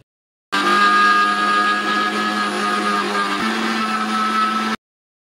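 An electric grinder whirs loudly and continuously as it grinds dried corn into cornflour, starting abruptly, holding a steady high-pitched drone with a slight pitch drop partway, then cutting off.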